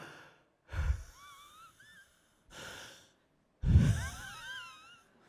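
A voice imitates heavy, labored breathing, with three separate wheezing, sighing breaths spaced apart, each rough and strained, heard close and alone during a church sermon.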